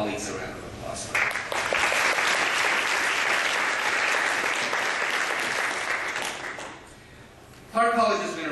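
Sustained applause from an audience at a Clark College foundation event, rising sharply and holding steady for several seconds before fading, with a voice speaking over the tail end.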